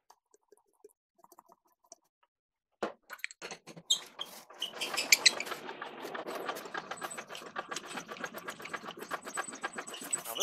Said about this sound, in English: I'll squirt a bunch of oil in the cylinders and then crank the engine over